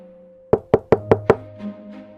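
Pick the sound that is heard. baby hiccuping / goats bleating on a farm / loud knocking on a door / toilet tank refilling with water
loud knocking on a door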